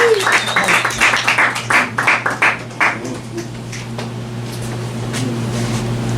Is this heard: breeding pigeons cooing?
no